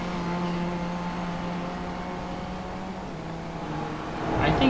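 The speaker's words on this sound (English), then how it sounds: "I think his engine sounds a bit getting weirder." In the iRacing sim, a race car engine drones at a steady pitch through a long stretch, then swells louder and rises near the end.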